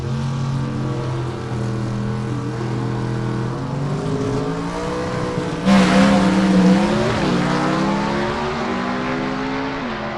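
A gasser drag car with a mechanically fuel-injected engine roars down the strip, its engine note rising loudly as it launches and accelerates away, heard at close range.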